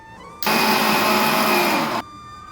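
A mixer grinder whirs in one steady burst of about a second and a half, grinding Udupi-style idli podi spice powder. The motor is close and loud, with a quiet room before and after.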